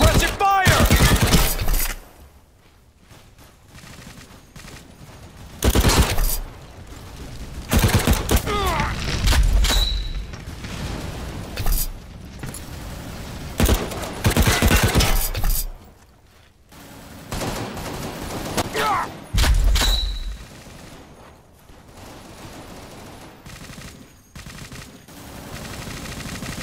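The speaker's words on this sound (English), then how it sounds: "Suppressive fire!" Suppressive gunfire in the war video game World War Heroes rattles in repeated loud bursts and booms, with brief quieter gaps between the volleys.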